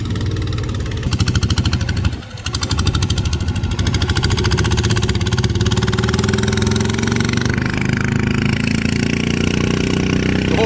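A car engine runs in second gear as a loud, close, continuous drone, with a brief dip early on before the pitch climbs steadily as it accelerates.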